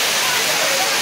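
Courtallam Five Falls waterfall in Tenkasi district pours in a steady, loud, close-up roar of rushing water that fills the whole moment without pause.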